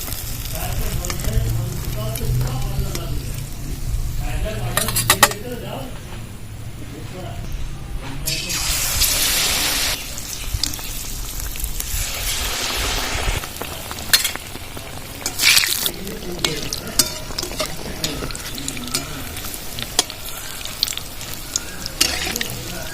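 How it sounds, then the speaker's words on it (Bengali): Ripe-mango malpua batter pancakes fry in oil over low-to-medium heat, giving a steady crackling sizzle with bursts of spattering and occasional clinks, while someone talks over the cooking. "মালপোয়া যখন আপনারা ভাজবেন লো টু মিডিয়ামে আঁচটা রেখে তারপর ভাজবেন"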